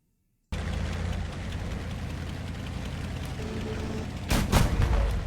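Heavy 30mm autocannon fire in the Total Conflict: Resistance war game, a steady roaring barrage of rapid booms throughout, with a louder burst near the end.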